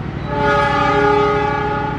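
The Jayakarta passenger train runs straight through Jatinegara station in Jakarta on track 7, sounding its horn. One loud, sustained, rich chord blares up close for the whole stretch over a low rumble of rolling wheels.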